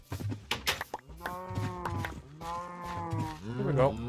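Cows in Minecraft moo repeatedly, several drawn-out bellows overlapping one another, clear and fairly close, with a brief bit of other game noise at the start.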